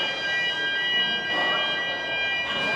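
A fire alarm sounds in a gym, a steady, piercing electronic tone that holds unbroken for the full few seconds, loud and continuous over faint background noise.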